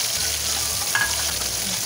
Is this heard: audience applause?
no